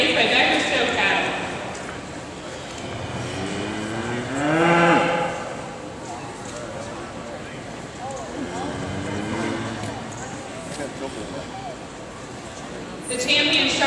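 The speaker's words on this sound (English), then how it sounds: "we have Jason Frank from Rain, Colorado, with their steer that weighed 933 pounds" Cattle mooing at a steer show, several long, loud moos from different animals spread across the stretch, with a busy arena murmur and a voice talking underneath.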